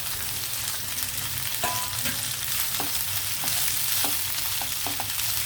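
Tempering spices frying in hot oil in a pan before tindora (ivy gourd) is added make a constant close sizzle, dotted with scattered small pops and crackles, with nobody speaking.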